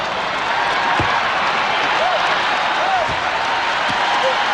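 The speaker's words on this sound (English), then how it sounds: "Now the crowd trying to get the Suns into it early." Arena crowd at the 1993 NBA Finals Game 6, Bulls at Suns, a dense, steady roar of cheering and noise filling the hall throughout, loud and continuous.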